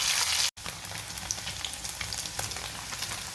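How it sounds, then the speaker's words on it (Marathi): Paneer frying in a pan, a close crackling sizzle broken by one brief dropout near the start, then continuous spitting with small pops and no talk. "इथे तुम्ही बघू शकता आपलं पनीर पण छान फ्राय झालेलं आहे"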